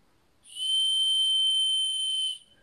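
A Wavin Tigris M5 multilayer pipe fitting leaks air, giving a steady high-pitched whistle that starts abruptly, holds loud and even for about two seconds, then cuts off, with near silence on either side.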